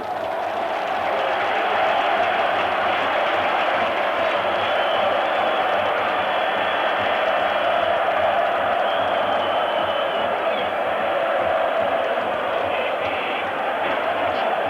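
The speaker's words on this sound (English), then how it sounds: "It's going to be difficult to hear the last 3 minutes with the sound of this crowd" A huge football crowd roars steadily at AS Roma's stadium during a European Cup semi-final against Dundee United, a dense, unbroken wall of cheering and chanting that never lets up.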